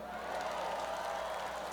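A large audience at the Illume 2023 opening ceremony in Hamilton applauds and cheers for the Mayor of Hamilton, a dense, distant, steady wash of clapping and crowd noise.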